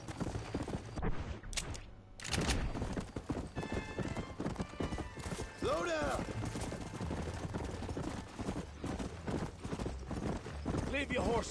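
Steady clip-clop of horse hooves with a whinny in the video game Red Dead Redemption, mixed with game sounds and voices talking over it.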